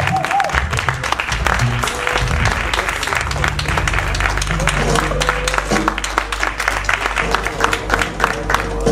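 An audience at an evening charity concert claps steadily, filling the room with loud, sustained applause and scattered voices throughout.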